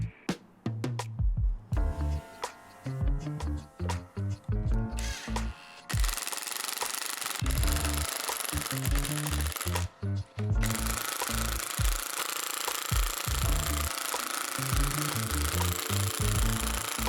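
A rapid clattering impact gun drives a spring compressor on a BMW E46 strut spring, with hammering bursts at first and then long continuous rattling runs, close and loud.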